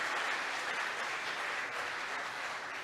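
Talk-show audience applauds beauty pageant contestants from the Miss BPX 2018 competition with dense, steady clapping that holds at an even, fairly loud level throughout, no voices on top.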